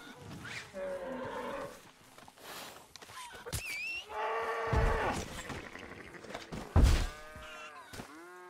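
Ox lowing in the Red Dead Redemption 2 video game, several drawn-out moos spread across the clip, loud and close, mixed with thuds and other game noises.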